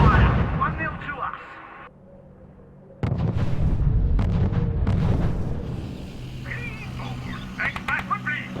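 Artillery booms and gunfire rumble across an R.U.S.E. battlefield, heavy explosions and crackling shots in uneven bursts, with a voice speaking over the combat.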